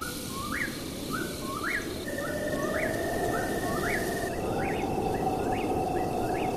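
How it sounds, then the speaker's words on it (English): A whip-poor-will's three-note whistled call in the video game The Legend of Zelda: Breath of the Wild repeats rhythmically about every half second over a steady ambient hum, with a faint continuous tone in the background. "that is a real-life bird called a whi-poor-WILL, named after its strange sound"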